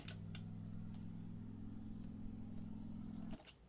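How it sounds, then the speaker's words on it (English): A low, steady engine drone hums in the background with faint clicks and taps above it, holding evenly for over three seconds before cutting off abruptly near the end. "there's actually an engine sound in the background of this"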